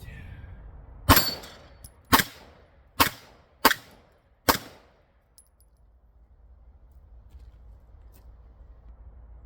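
A Girsan 2311 Match X pistol fires five sharp shots at a competition plate rack on a range, evenly spaced and loud, each crack followed by a short ring before quiet outdoor ambience returns.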